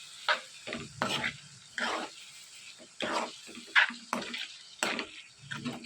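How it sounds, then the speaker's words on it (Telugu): A tomato and onion curry being stirred in a pan, with repeated short scraping strokes of a spoon and a soft sizzle between them, close and fairly quiet, no speech. "టమాటా ముక్కలన్నీ వేసుకుని ఇవన్నీ కూడా బాగా మిక్స్ చేసుకుని టమాటాలన్నీ కూడా బాగా మగ్గిపోయేంత వరకు ఉడికించుకోవాలి"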